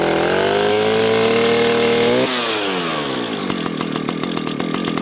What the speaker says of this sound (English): I will pull it and it should start